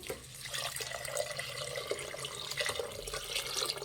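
About one and a half glasses of water are poured over rice for a peas rice bath, a soft, fairly faint, continuous trickle and splash with no speech over it.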